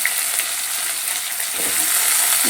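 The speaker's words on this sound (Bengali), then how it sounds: "আলুটাকে একটু ভালো করে ভেজে নেব" Diced potatoes fry in oil, giving a dense, even sizzle close up with faint stirring, and no one speaks.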